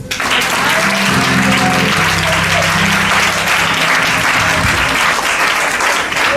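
A church congregation applauding during a sermon, dense sustained clapping from a crowd filling the room, loud and steady throughout, with voices and a tonal hum beneath.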